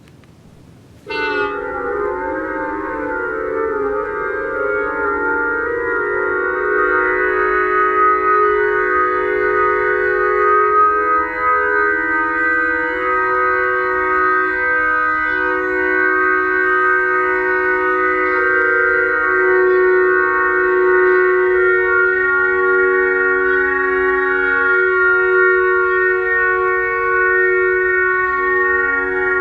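Synthesized tones with random pitches begin abruptly as a jumbled, clashing cluster, then gradually settle into steady sustained harmonious chords over about half a minute, with no talking.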